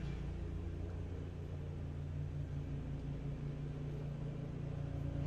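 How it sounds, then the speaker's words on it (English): A faint, steady ride-on lawn mower engine drone rumbles in the distance outdoors, constant and low throughout, with no voices. "noise outside. My husband's on the ride-on mower."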